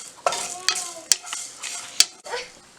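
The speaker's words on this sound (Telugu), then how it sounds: "బిర్యానీ ఆకు, దాల్చిన చెక్క వేసుకొని ఫ్రై చేసుకోవాలి." Bay leaf, cinnamon and dried red chilies dry-roast in a pan, giving a few sharp scraping stirs and light clinks of a spoon against metal over a faint sizzle, close up and fairly quiet.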